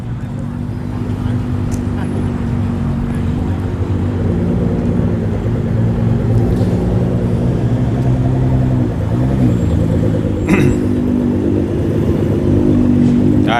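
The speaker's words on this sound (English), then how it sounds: "So we got some nice GTRs coming through." Nissan GTR sports cars roll through a car meet at The Rock at La Cantera, a steady loud engine rumble with occasional revs, while people talk nearby throughout.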